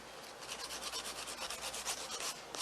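A nail file rasps back and forth across a dip powder nail to smooth it, a quick steady series of soft scratchy strokes, close and quiet, with no talk.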